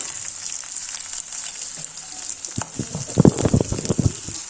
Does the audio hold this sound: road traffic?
no